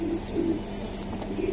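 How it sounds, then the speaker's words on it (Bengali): Pigeons sold as racer and giribaj breeds coo steadily and close by, with low, rolling, repeated calls and a few faint chirps throughout. "দুইটা কবুতর ভাই দিছে মাখন।"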